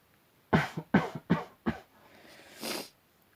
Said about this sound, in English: Sorry, that was me coughing.